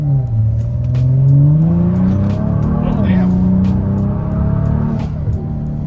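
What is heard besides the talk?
Kia Stinger accelerating hard in a full-throttle pull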